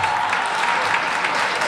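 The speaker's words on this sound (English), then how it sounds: "Give Melvin Carter one more applause." A political rally crowd in St. Paul, Minnesota claps loudly for Melvin Carter in a brief, dense, continuous burst of applause.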